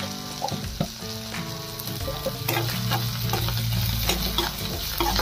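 A potato masala filling with chopped coriander and turmeric is stirred in a hot pan for bread pakora, giving a steady close sizzle broken by clinks and scrapes of a spoon against the pan.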